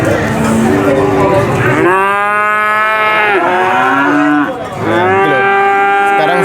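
Cattle at the Purwantoro livestock market moo loudly and close, with several long drawn-out lowing calls, one after another and briefly overlapping.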